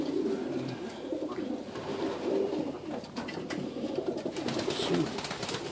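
Racing homer pigeons coo steadily inside a loft, a dense low murmur of overlapping calls that runs throughout at moderate loudness.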